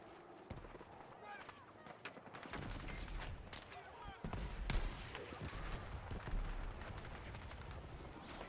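Rapid, distant-sounding sniper and rifle fire crackles through a video game battle, layered shots and impacts rolling continuously with a faint radio-style voice at times.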